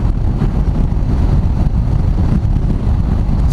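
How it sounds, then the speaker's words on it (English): Strong, steady wind roar buffeting the microphone during an open-road ride through Nebraska and Kansas, loud and continuous with no talking. "feeling the wind"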